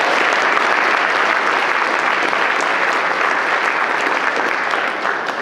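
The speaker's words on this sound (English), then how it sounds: "give another round of applause for our speakers today" Audience at a scientific plenary session applauding its speakers: dense, steady clapping from a large crowd, loud and sustained throughout, fading only slightly at the very end.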